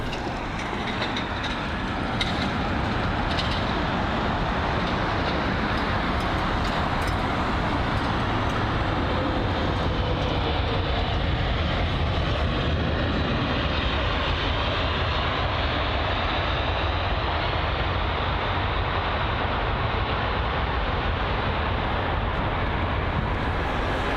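An Airbus A350 at London Heathrow produces a loud, sustained jet engine roar with no break. The high hiss slowly thins out toward the end as the aircraft moves off.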